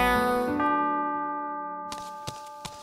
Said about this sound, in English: The clock struck 12.